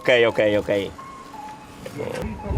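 An ice cream vendor's car on a street in San Juan, Puerto Rico plays a short, bright repeating jingle of a few notes, loud at first, then fading as voices talk in the background.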